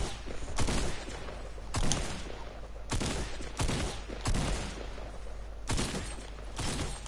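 Video game gunfire striking a player: about seven sharp, loud shot bursts at uneven intervals, each rising abruptly out of a noisy background rumble.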